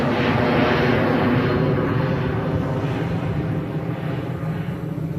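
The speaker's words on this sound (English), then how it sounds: "That's an American Airlines jet." An American Airlines jet passes near an airport by a beach in Puerto Vallarta, Mexico, as a steady, loud engine roar that fades slightly toward the end, with no talk.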